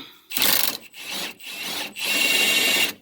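A ratcheting wrench works a 14 millimeter sway bar link nut on an early-2000s Honda CR-V whose stud spins, giving three close, gritty bursts of clicking rasp with short gaps.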